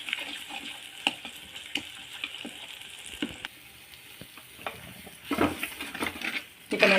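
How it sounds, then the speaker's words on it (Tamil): Ingredients being sautéed in oil in a pan to cook off their raw smell: a low steady sizzle broken by the sharp scrape and clack of a spoon stirring against the metal, close and alone, with louder stirring bursts near the end. "இந்த பச்சை வாசனை போகணும் அது அளவுக்கு நம்ம இதை வதக்கணும்"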